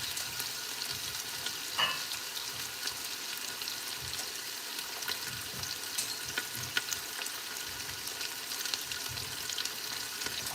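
Onions frying in a pan on a home stove give a steady, moderate sizzle and crackle that runs throughout, with a few small pops and stir noises and no talking.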